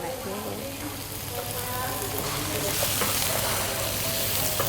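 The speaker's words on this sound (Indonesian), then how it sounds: "ini kita lagi tumis. Jadi yang pertama tadi bawang merah, terus dimasukin udang sama ayam" Shallots, shrimp, chicken and fish balls stir-fry in a hotel kitchen pan, a steady loud sizzle with scraping stirs, while people talk over it.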